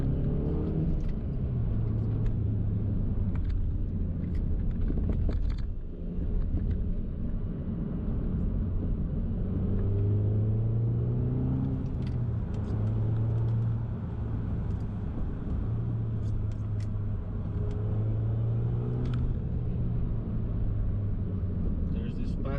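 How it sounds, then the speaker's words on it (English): A Mark II Audi TT 8J drives along a slippery mountain pass, its engine droning steadily inside the cabin with rising and falling revs, while someone talks over it throughout. "this is my Mark II Audi TT."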